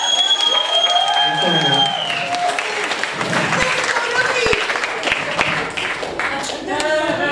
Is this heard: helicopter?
no